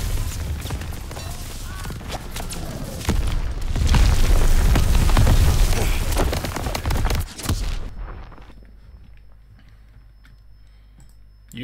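Enemy gunfire in Call of Duty WWII, a loud, crowded barrage of shots, booms and explosions building to a heavy peak midway, then cutting off abruptly into near silence.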